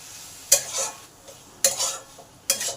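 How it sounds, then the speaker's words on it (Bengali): Spice masala sautéed in a pan for a vegetable curry, stirred with a spoon in three sharp scrapes against the metal pan over a low sizzle. "এবার এই মশলাটাকেও ভালো করে এর সঙ্গে কষে নেব"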